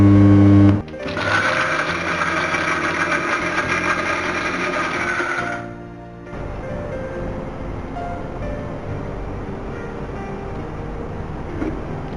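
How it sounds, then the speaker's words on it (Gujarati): A mixer grinder grinds mixed dry fruits and nuts, whirring loudly for several seconds and then cutting off, leaving a quieter, rough background hum afterward. "હવે મિક્સરમાં એને ગ્રાઇન્ડ કરીશું."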